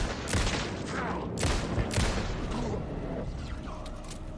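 Gunfire in a horror video game, several sharp shots cracking out in an irregular burst over a low droning background, the last ones fainter.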